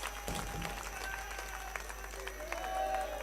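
A political rally crowd listening to a speech about farmers and agricultural laws breaks into sustained applause and clapping, a dense steady wash of hands heard over a constant low electrical hum.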